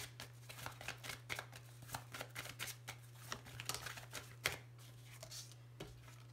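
Petit Lenormand cards being shuffled: a quick run of soft papery riffles and slaps in irregular bursts, close and fairly quiet over a steady low hum.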